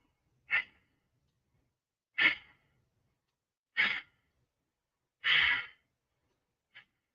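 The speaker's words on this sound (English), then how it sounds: "Now take 5 breaths here." Deep, slow breaths during a yoga pose: five long, airy exhales spaced about every one and a half seconds, close and clear against silence, the last one short and soft.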